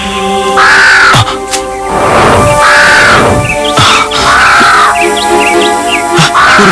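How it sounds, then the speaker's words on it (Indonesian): A giant crow caws in a forest, several loud, harsh calls in an uneven series, close and dominant, with short gaps between them. "burung gagak raksasa itu?"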